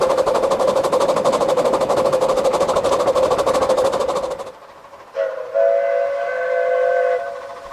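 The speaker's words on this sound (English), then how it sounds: "Will blows the whistle for the level crossing at Beckfoot Halt." A steam locomotive on the Ravenglass & Eskdale Railway, nearing the Beckfoot Halt level crossing, sounds its whistle in a loud sustained blast over rapid chuffing. It then cuts off and a second, shorter whistle with fainter chuffing follows.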